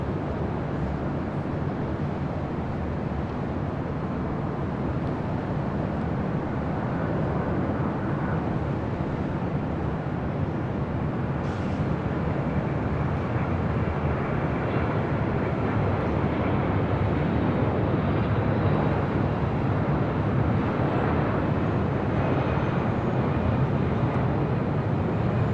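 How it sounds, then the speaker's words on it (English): A Delta Boeing 767 airliner arriving at LAX, a steady broad jet roar that holds for nearly half a minute, heard from a distance and slowly swelling. "up next is the Delta 767"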